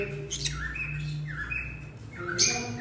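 A split blue turquoise pineapple conure parrot gives several harsh, rising squawks and chirps close by, with short pauses between calls and a low background hum.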